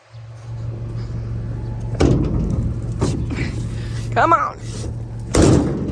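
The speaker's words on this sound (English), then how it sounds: "make sure the back of the trailer is latched" A trailer's back gate is pushed shut and latched with a few loud metallic clunks and thuds near a running vehicle's steady low hum, while someone speaks briefly.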